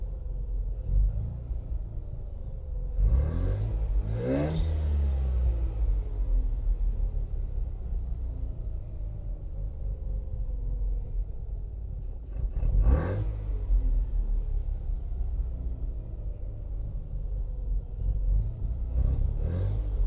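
A Mazda RX-7 rotary engine running after a fuel pressure regulator install, a low steady rumble with a few quick revs rising and falling, close and loud.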